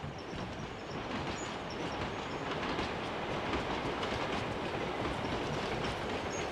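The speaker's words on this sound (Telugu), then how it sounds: "రా పైకి వచ్చింది ట్రైన్ వచ్చింది," A train pulls into a station platform, its loud continuous rumble and clickety-clack of wheels filling the whole stretch with faint squeals of braking wheels above, no voices.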